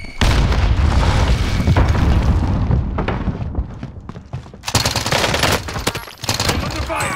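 A frag grenade blows up in a first-person shooter match inside a house, a loud booming blast over continuous gunfire bursts, with a second sharp burst of noise near the end.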